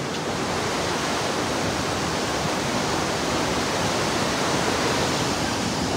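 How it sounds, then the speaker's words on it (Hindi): Near Manikaran Sahib in Himachal Pradesh, a mountain waterfall pours in a steady, dense broadband rush. It stays even and fairly soft throughout, with no voices over it. "ये देखो झरना देखो"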